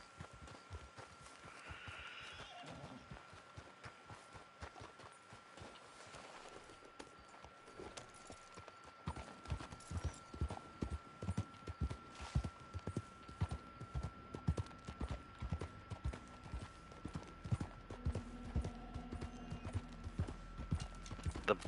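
A horse trots steadily in the video game Red Dead Online, its clip-clop hoofbeats falling in an even, close rhythm that grows louder partway through, over a faint constant background hum.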